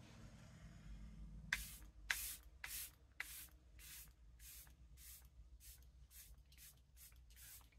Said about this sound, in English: Break out your setting spray before you put on your blush or anything else.